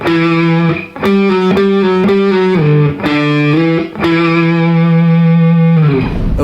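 A heavily distorted electric guitar plays the main riff as a loud chugging sequence of held and sliding notes, close and unaccompanied, with no talking.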